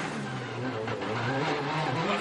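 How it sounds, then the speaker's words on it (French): Rally cars at WRC France 2013 on a soaked gravel stage, engines revving and wheels spinning in a busy, fairly distant mix of rising and falling engine notes with continuous texture and no clear speech. "On entend les voitures, les roues qui patinent, des moteurs qui s'emballent."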